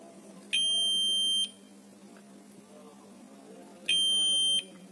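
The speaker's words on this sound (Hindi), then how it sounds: "बीपिंग आवाज आ गया मतलब कंटिन्यूटी है" A continuity tester gives two clear, high-pitched electronic beeps, each lasting about a second with a pause between, as its probes touch the contacts of an electromagnetic relay. Faint background noise fills the gaps.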